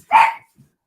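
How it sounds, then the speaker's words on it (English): A dog lets out one sharp, loud bark close by, then a much fainter trailing sound follows a moment later. "it sounds like dogs are going crazy."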